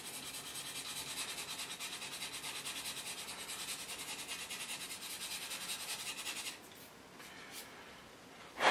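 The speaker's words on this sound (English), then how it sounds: "I'm just going to sand and blend that unevenness out" Steady rhythmic sanding and rubbing as unevenness is blended out on a model, a continuous close scratchy stroke for most of the stretch that drops away near the end with a brief sharp sound.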